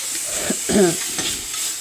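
A tadka (tempering) for kadhi fries in a pan, producing a continuous close hiss and sizzle broken by brief stirring scrapes.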